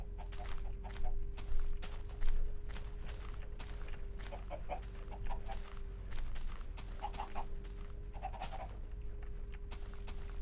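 Chickens in the video game Minecraft cluck in short repeated bursts over a steady low hum, with no one talking.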